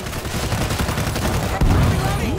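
Pistol gunfire in the zombie shooter World War Z, rapid sharp shots in a dense burst with a heavier boom partway through, while players talk excitedly over the action.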